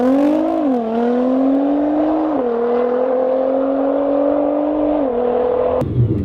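A 2009 or 2015 Nissan GT-R, all-wheel drive, launches hard on launch control, its engine note climbing steadily through several gear changes, loud and close, with no talking.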